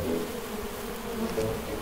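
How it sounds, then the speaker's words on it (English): Bees flying around a beehive, a steady close buzzing drone with shifting pitch as individual insects pass near, continuous throughout with no talking. "there are going to be bees flying right into your face at all times"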